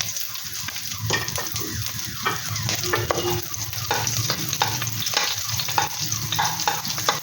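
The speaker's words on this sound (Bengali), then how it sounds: "এই ঘি গরম হয়ে গেলে এর মধ্যে দিয়ে দেব 2টো ছোট এলাচ, একটা তেজপাতা, আর দিয়ে দেব সামান্য পরিমাণ গোটা জিরে।" Cardamom, bay leaf, cumin and chopped green chilli fry in hot ghee for stuffed potatoes, a lively close sizzle with constant crackling and quick, busy stirring scrapes throughout. Nobody talks.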